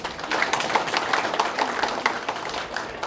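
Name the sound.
audience applause for journalist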